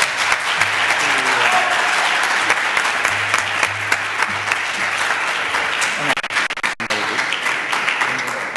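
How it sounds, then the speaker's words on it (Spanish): Loud, close applause fills a conference session as a presenter is thanked, dense clapping held evenly for several seconds before thinning out near the end with a few handling bumps. "Un aplauso para Luis Alfredo."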